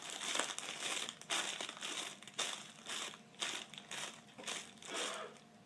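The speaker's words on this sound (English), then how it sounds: "It's cereal in a plastic bag." Cereal is crushed inside a plastic bag as a sound effect, a series of rhythmic crinkling crunches in regular bursts, close and fairly quiet, with no talking.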